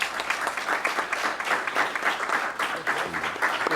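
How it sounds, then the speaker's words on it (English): A school board meeting audience applauds, with dense, sustained clapping from many hands filling the room at a steady level. "Please give him a round of applause."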